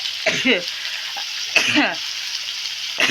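Chili dropped into hot cooking oil in a village kitchen, with broad bursts of frying sizzle rising at intervals between quieter stretches, close and fairly loud, while voices talk over it.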